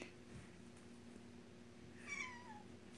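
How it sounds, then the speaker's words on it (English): A house cat lets out one clear, drawn-out meow near the end, rising then falling, against a quiet indoor room with faint background hum. "That meow was Snare."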